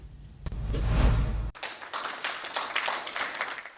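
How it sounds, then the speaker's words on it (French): Guinean and Sierra Leonean officials applaud in a reception hall, a brisk crowd of hands clapping that cuts in sharply after a short rumbling thud and carries on steadily at moderate distance. "Dans le salon d'honneur, les applaudissements des autorités guinéennes et sierra-léonaises."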